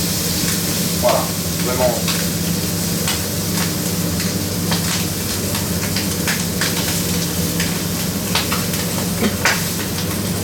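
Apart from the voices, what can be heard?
chicken fillet searing skin-side down in oil and butter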